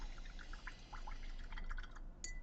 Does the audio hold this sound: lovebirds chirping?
no